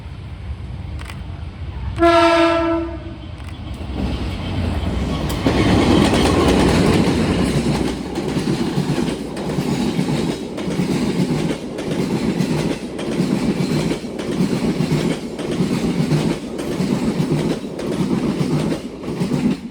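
A vintage CC 201 diesel locomotive sounds a loud, stacked-tone horn blast early, then passes close with a sustained engine roar and steady rhythmic clickety-clack of rail cars running to the end.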